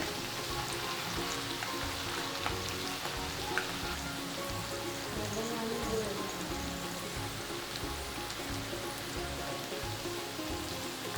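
Vegetable Manchurian balls deep-fry in hot oil, making a steady, even sizzle and bubbling hiss that runs unbroken from start to finish at moderate loudness.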